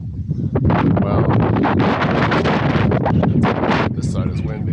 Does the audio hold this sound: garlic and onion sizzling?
no